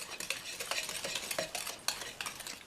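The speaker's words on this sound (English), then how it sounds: "Now we mix this up till it's all blended." A spoon scraping and clinking in a bowl while paczki dough ingredients are stirred together, a quick irregular rhythm of soft taps and scrapes, close but quiet, with no one speaking.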